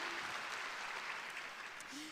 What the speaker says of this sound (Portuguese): Amém, aplauda mesmo.